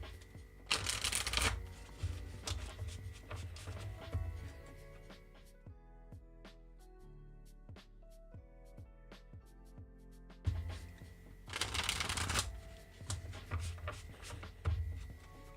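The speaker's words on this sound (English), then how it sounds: "One moment while we shuffle." A deck of tarot cards is riffle-shuffled close up: two loud bursts of shuffling, with quieter card handling and tapping between them.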